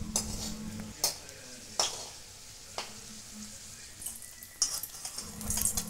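Papad frying in hot oil while it is flipped and lifted out, with a steady close sizzle broken by several sharp clicks and scrapes of a utensil against the pan.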